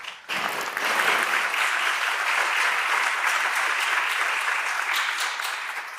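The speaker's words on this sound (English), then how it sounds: "Big applause, please." Sustained applause from a keynote audience at an insect-day event, a dense steady clapping that swells quickly and holds at full strength for several seconds before easing slightly.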